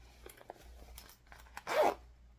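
A zipper on a handmade baguette bag gives one short, loud rasping pull near the end, after quiet, faint handling noises.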